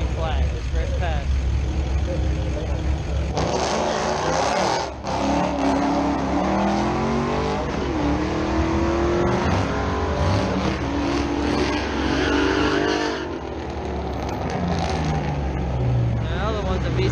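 A new-generation Ford Mustang 5.0 V8 roars at a drag strip, its engine revving and accelerating loudly with rising pitch sweeps, while a voice comments over the noise.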